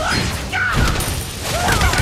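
A turret being destroyed in the Mobile Legends video game, heard as a dense mix of crashing impacts, booming hits and mechanical game effects that stay loud and continuous for about two seconds.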